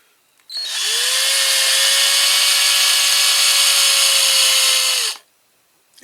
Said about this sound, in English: So I am going to have to drill these rivets a little bit more.